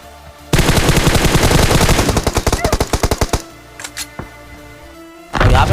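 Loud automatic gunfire from a shooter video game arrives as a rapid sustained burst of about three seconds. A few scattered single shots follow, then another blast of noise near the end.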